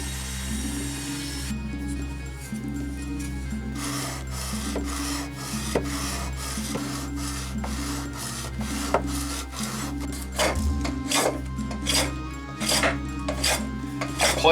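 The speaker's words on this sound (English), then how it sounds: "I planed off the old gray exterior to reveal the beautiful grain of this dense wood." A hand plane shaves the weathered gray exterior off a dense 3 by 3.5 inch oak block in repeated rasping strokes that grow sharper and more rhythmic, over a steady low hum.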